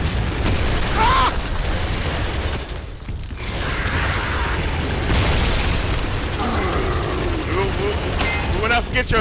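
Boomshot explosions erupt amid constant gunfire and mechanical clatter during a Gears of War Horde mode match, a loud dense barrage with voices talking over the action.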